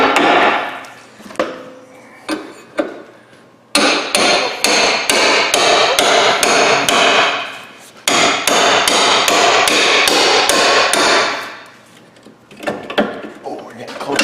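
Repeated hard metal hammer strikes on a lower ball joint stud of a Ford Escape, loud and close, coming in rapid bursts separated by short pauses.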